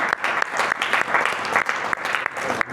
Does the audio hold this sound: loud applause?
yes